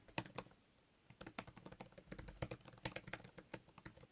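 Typing on a Type Folio keyboard for the reMarkable 2, a quiet run of clacky keystrokes in irregular bursts with brief pauses, close and soft overall.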